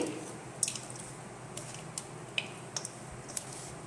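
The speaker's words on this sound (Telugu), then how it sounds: "ఇలా రైస్ అంతా మొత్తం కలిసే విధంగా కలుపుకోండి" Cooked rice with lemon juice and sesame being mixed together by hand, giving soft, faint squishing and sticky squelches at irregular moments over a quiet background.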